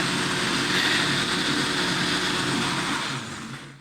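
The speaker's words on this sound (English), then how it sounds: "the blender didn't want to work" A kitchen blender blending fruit runs loud and steady close by, a dense whirring roar that holds nearly constant before cutting off at the end.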